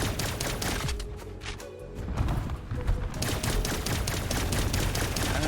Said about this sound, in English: Grenade here.